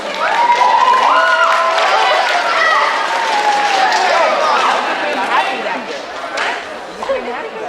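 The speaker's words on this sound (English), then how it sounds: "Give her a round of applause." An 8th grade step-up day audience gives a round of applause for the English department head, clapping mixed with loud chatter and crowd noise throughout, voices prominent over the claps.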